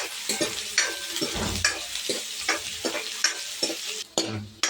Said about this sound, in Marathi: कांदा टाकून द्यायचा आणि आता हे हलवून घ्यायचं